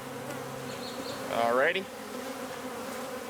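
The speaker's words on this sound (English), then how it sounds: "I think a lot of times people get overwhelmed by the amount of bees in the air" Honeybees buzz around an open hive in a steady nearby drone, with one bee sweeping loudly past close by in a rising whine, and a voice speaks briefly.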